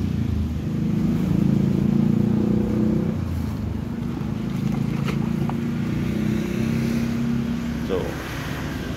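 A motorcycle engine drones close by as it hauls red Bangkok tilapia larvae from the spawning site, a steady mid-pitched hum that shifts slightly in pitch, with voices talking over it.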